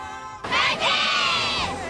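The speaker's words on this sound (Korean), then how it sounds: "간절한 새해 소망을 담은 우렁찬 함성이 바다를 힘차게 헤쳐갑니다" A group of children shouting New Year wishes together by the sea: after a brief quieter lead-in, a loud, massed outburst of young voices bursts out, dips for a moment, then continues strongly to the end.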